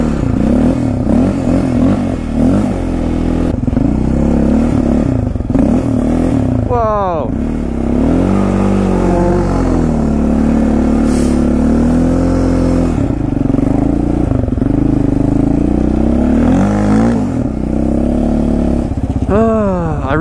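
A Yamaha Raptor 700 quad fitted with a new NGK spark plug idles and revs in snow, its close, uneven engine note rising in several short blips, with a person talking over much of it.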